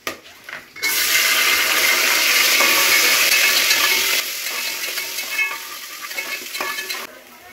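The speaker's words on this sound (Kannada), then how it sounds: "ಇವಾಗ ಈರುಳ್ಳಿ ಚೆನ್ನಾಗಿ ಫ್ರೈ ಆಗಿದೆ." Chopped onions fry in hot oil for a mushroom biryani, a loud, steady sizzle that swells after a quiet start and holds, with occasional stirring clinks and scrapes of a spoon in the pan.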